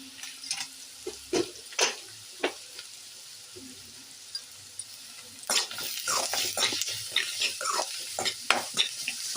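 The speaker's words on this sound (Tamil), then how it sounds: "இஞ்சி பூண்டு பேஸ்ட் நல்லா பச்சை வாடை போகிற அளவுக்கு நல்லா வதங்க" Ginger garlic paste sautés in a pan for potato masala, faint sizzling under a string of sharp spatula scrapes and stirring knocks that grow busier in the second half.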